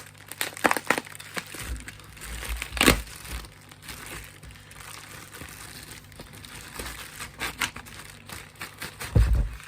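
Gift wrapping paper torn open by hand without scissors, a series of crinkling, ripping bursts with a sharp tear near the three-second mark, close and fairly quiet with pauses between.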